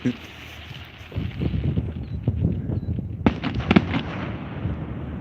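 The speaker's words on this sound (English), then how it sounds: "I can hear the Barrie fireworks off in the distance" Far-off Canada Day fireworks crackle and pop in a dense rumbling patter, with a few sharper bangs midway, heard outdoors with wind noise and faint voices.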